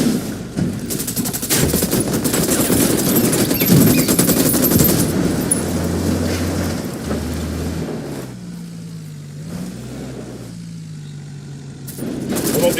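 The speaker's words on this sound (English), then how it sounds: "I'm opening fire on these shitheads." Sustained bursts of machine-gun fire in the Ghost Recon Wildlands video game, loud and dense through the first half, then thinning into sparser shots amid engine hum and game sounds.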